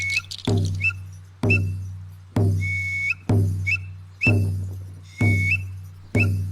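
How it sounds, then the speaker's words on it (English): A ceremonial whistle sounds in repeated short blasts, each a sharp rising pitch with a flick at the end, about seven evenly spaced calls, close and clear over a low steady hum. "Whistles,"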